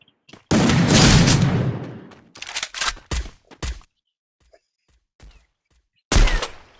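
Rapid automatic gunfire in the Free Fire 4v4 mobile shooter: one loud, close sustained burst of about a second and a half, then a series of shorter bursts and single shots separated by gaps.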